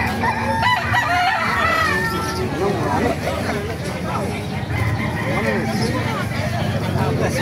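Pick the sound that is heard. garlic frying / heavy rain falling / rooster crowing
rooster crowing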